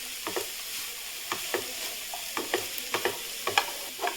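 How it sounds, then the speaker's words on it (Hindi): Beans, capsicum and cabbage stir-fry in a pan for a Kolkata-style veg roll, a soft continuous sizzle broken by regular sharp clacks and scrapes of the spatula. "और इन सबको हम भून लेंगे।"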